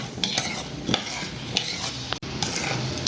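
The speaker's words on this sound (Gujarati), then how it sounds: "મેં એક નાની વાટકી ગોળ લીધો છે, એમાં થોડું પાણી નાખીને હવે આપણે એને અંદર મિક્સ કરી દઈએ." Jaggery being stirred into a little water in a small bowl, a spoon clinking and scraping in brisk, repeated strokes, close and clear with no talking.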